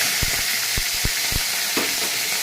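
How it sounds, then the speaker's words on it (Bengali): Dried red chili and mustard seeds hit hot oil for tempering, giving a steady close sizzle with several sharp pops and crackles spaced through it. "আমার তেলটা গরম হয়ে গেছে, ফোড়নে দেবো একটা শুকনো লঙ্কা, একটু সর্ষা"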